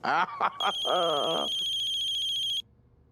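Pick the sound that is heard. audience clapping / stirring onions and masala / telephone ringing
telephone ringing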